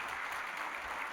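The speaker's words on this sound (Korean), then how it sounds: "우리 큰 박수로 한번 격려하겠습니다." Dense, even applause fills a church sanctuary during a worship service, a short continuous burst of many hands clapping together.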